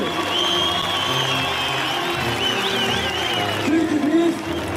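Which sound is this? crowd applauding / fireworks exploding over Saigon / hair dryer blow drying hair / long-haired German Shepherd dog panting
crowd applauding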